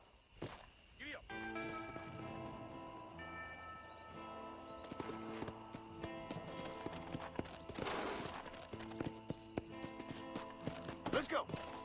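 Horse in Red Dead Redemption setting off, hooves clip-clopping at a quickening pace amid game music tones and occasional thuds, fairly faint overall with a snort near the end.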